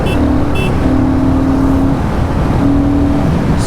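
Continuous Royal Enfield Guerrilla 450 motorcycle engine drone while riding in sixth gear, loud and close, with steady wind rumble and faint tonal whine rising and falling.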